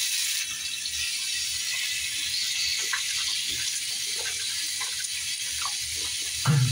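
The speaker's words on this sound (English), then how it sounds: "So let me just show you the lather with this one." Orange-scented bar soap is lathered by hand under running water, giving close, soft squishing and clicking rubs over a steady splashing stream.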